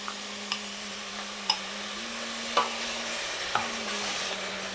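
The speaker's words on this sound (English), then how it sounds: "Mix that all up." A spoon stirs chickpeas and brown lentils through Moroccan harira soup in a pot, making a few distinct knocks against the sides spaced about a second apart over a low, steady hum and faint simmer.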